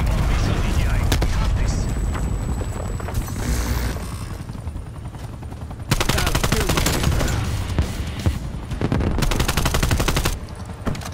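Rapid automatic AK-74 gunfire rattles in Call of Duty: Black Ops Cold War, bursts of loud close shots with brief lulls between them, layered with game effects and talk.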